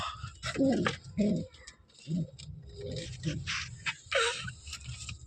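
A single pigeon coos in several short throaty bursts, close by, with domestic pigeons around it and some chatter and bird sounds in the background.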